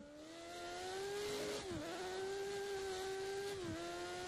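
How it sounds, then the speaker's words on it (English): Car engine in an Xbox 360 racing game, a steady high-pitched whining drone with two brief dips where the tone sags and stutters, faint and alone. "Misfires in the engine."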